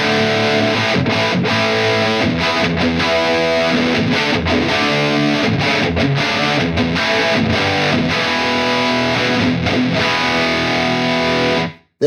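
Electric guitar with a Damasio hot rail bridge pickup, played through a Soldano SLO overdrive pedal: a dense, loud, tight distorted riff with rhythmic chugging stops, continuous for about twelve seconds before cutting off at the end.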